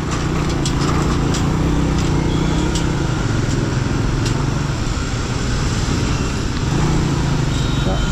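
A car drives through heavy traffic on a potholed road, with a loud continuous engine and road rumble running close throughout and faint bumps and clicks over it.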